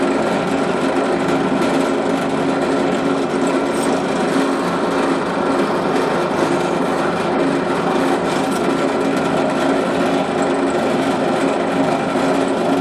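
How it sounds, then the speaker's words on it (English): A steady, continuous mechanical whir and grinding hum of a drill press boring a 1/4-inch hole through Kydex plastic sheet for a knife sheath rivet, constant in level throughout with no pauses. "I've got my standard 1/4" breadpoint drill in the drill press."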